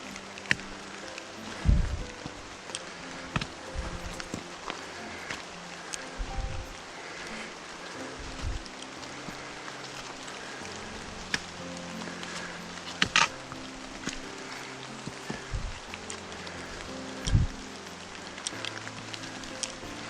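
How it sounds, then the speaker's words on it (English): A waterfall on Falls Branch Trail in Cherokee National Forest, swollen by recent rain, gives a steady, broadband rushing hiss throughout, with occasional scattered taps and rustles near the listener and no voices. "Gorgeous waterfall though."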